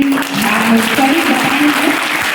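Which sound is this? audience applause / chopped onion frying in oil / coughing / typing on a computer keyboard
audience applause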